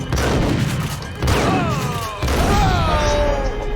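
Gunshots boom in Max Payne on Dead on Arrival mode, sounding as loud repeated blasts and crashes over dense game noise, with tonal whooshing or groaning effects between them.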